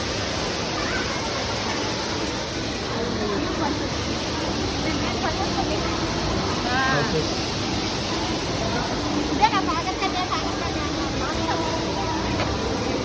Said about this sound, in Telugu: వాటర్ ఫాల్స్ అయితే సూపర్ పెట్టారు.